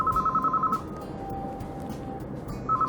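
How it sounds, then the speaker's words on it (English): A cell phone in a car's drink holder rings in the visual novel Aoi Shiro, a clear electronic ringtone in repeating bursts over quiet background music, pausing then starting again. "the impersonal sound of the phone, which cared not about circumstances"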